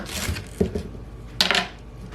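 A knife slices through the base of a rinsed cabbage on a board, with two short clusters of crisp cutting crunches and knocks, close and fairly quiet, separated by a brief pause.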